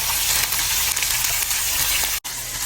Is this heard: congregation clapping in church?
no